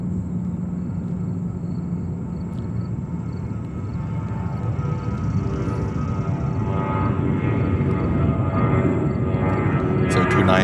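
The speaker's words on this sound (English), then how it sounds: "right behind is the Saudi 777-300 on its flight to Jeddah in Saudi Arabia" Saudi Boeing 777-300 wide-body jet bound for Jeddah at New York JFK Airport, a steady low engine rumble that grows slightly louder over time, continuous and fairly near with no voices.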